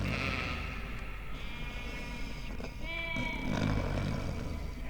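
Sheep in the Barn Finders video game bleat a few times in a dream scene, with wavering calls standing out over a steady low background hum.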